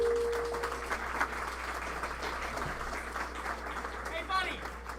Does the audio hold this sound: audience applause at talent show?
yes